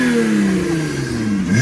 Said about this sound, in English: this is after 2Bular exhaust on in race mode.